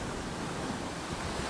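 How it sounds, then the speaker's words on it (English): A storm at sea sounds as a dense, steady roar of wind and crashing waves that fills the whole stretch, loud and unbroken, with no voices. "There is a storm."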